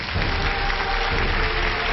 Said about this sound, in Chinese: 来，掌声请出他们，掌声有请。